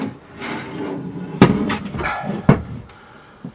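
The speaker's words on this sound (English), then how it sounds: "so I'll turn it over and look at the bottom first" A large aluminium controller box is turned over on a bench, giving two sharp metallic knocks among a few lighter rattles and scrapes. The sounds are close and loud, and no one speaks.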